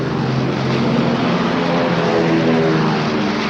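Marine propeller planes taking off on Midway island during World War II, a loud, steady roar of aircraft engines that holds constant and close throughout, with no talk.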